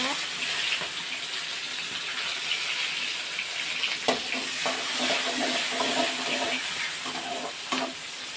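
Onions sautéing in oil with fenugreek and cumin for a brinjal kuzhambu, a continuous hissing sizzle that stays even and close throughout, with occasional sharp spatula clicks against the pan.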